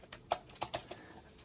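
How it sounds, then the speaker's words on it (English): A handful of separate keystrokes click on a computer keyboard, light and fairly close, spaced unevenly over a second and a half with no talking. "In this case I'm typing in administrator"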